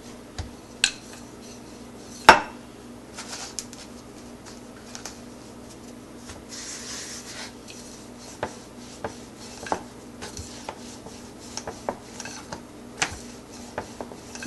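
Paneer paratha dough being rolled out on a kitchen surface, heard as soft, scattered taps and clinks of a rolling pin and utensils, with one sharp knock early and quieter intermittent contacts over a low steady hum.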